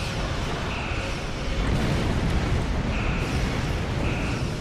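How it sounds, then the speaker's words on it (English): A sustained, roaring explosion in the space combat game Star Trek Online, a loud, broad rumble lasting several seconds with faint tonal beeps over it and no talk. "I'm going to fly right into their explosion here"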